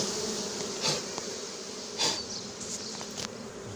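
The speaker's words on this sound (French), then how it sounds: "j'ai mis le carton horizontal et les abeilles battent leur appel" A swarm of honey bees fanning and calling at a cardboard box during a swarm capture, a steady close buzzing drone with a few louder passes of individual bees.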